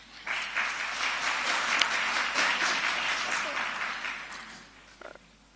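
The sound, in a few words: audience clapping in a courtroom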